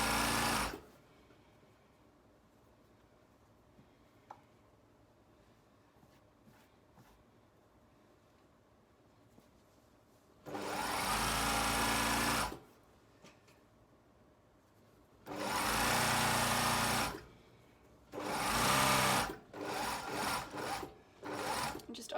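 A home sewing machine stitching a seam on Phoebe flares with a back tack, three or four loud, steady whirring runs of a few seconds each with quiet handling pauses between them.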